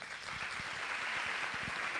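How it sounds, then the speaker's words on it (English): Workshop audience at a Grade 10 maths session claps together, a quiet, steady patter of many hands heard at a distance, with a few sharper individual claps standing out. "A round of applause."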